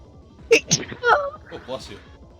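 A single sharp sneeze bursts out close to the microphone, followed by a brief mumbled voice.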